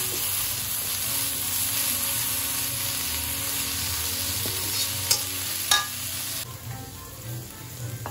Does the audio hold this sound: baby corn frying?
yes